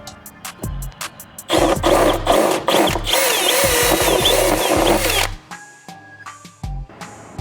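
A power tool drives a bolt with a locking washer into a bracket on a 2024 Chevrolet Silverado 2500HD: loud whirring bursts over several seconds, preceded and followed by sharp clicks and handling knocks.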